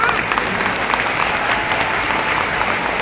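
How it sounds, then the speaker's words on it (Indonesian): Steady, dense applause from a large audience at a parenting seminar held in an Islamic boarding school hall, loud and continuous for the whole stretch with no pauses. "Tepuk tangan."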